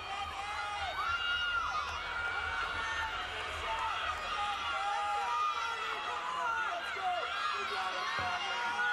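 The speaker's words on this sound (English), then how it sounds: "you'll hear all her teammates cheering in the background" College gymnastics teammates from Oklahoma cheering and shouting during a beam routine at the NCAA Championship team finals, a lively arena crowd murmur with whoops rising and falling, heard at a distance beneath a commentator's voice.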